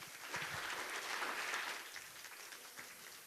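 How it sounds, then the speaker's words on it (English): An audience applauds after a panel discussion and Q&A session. The clapping is steady, moderately faint and distant, and sounds like a room of people clapping together for a few seconds. "Give yourselves a round of applause."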